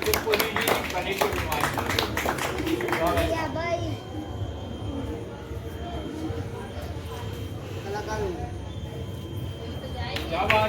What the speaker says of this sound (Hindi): आपके सबके गुरु के सम्मान में जोरदार तालियां